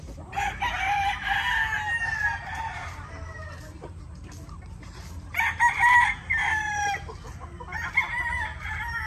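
A young rooster crows on a farm, two or three loud, close crowing calls with clucking fowl and other birds around, no talk.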